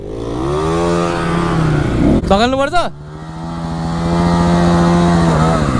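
A stuck dirt bike on a wild trail ride revs hard and loud in a brief burst, its engine note climbing and falling, set against a steady idling drone before and after, with voices talking nearby.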